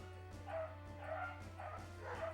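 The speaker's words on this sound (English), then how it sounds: "and I'm sorry about the doggos barking" Dogs barking in repeated yips and bow-wows, several bursts spaced through the moment, moderately near over a steady low hum, no talking.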